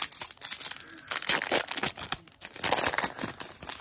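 Foil wrapper of a Pokémon Champion's Path card pack crinkles and tears open up close, a dense run of crackling rustles with brief pauses and no talking.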